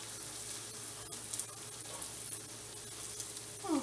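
Mini slider burger patties fry in a pan over medium-low heat, a faint, even sizzle crackling quietly throughout with a slightly louder burst near the end.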